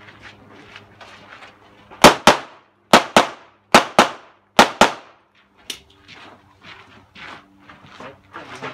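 Eight sharp pistol shots crack out at a qualification shoot, fired in quick pairs with a short pause between each pair, loud and close over faint background talk.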